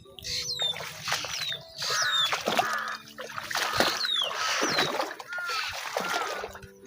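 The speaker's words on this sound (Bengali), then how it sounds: "আমি পুরোটা জায়গায় হেঁটে যাচ্ছি জলের ভিতর দিয়ে" Wading steps slosh and splash through shallow water in a village wetland in Bangladesh, repeated surges of splashing with trickles between them and bird calls chirping over the top.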